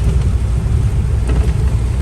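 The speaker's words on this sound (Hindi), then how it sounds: "बारिश देखो कितनी हो रही है," Heavy monsoon rain drums steadily on a truck while it is stopped near the Kosi river, with a dense, continuous wash of sound and a low rumble underneath and no talk.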